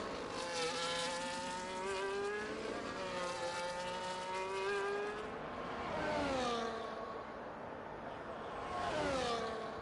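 Race cars lap the Red Bull Ring in Austria during a racing-game Grand Prix. Several engines whine and rise in pitch as they sweep past one after another, with the loudest pass swelling near the end.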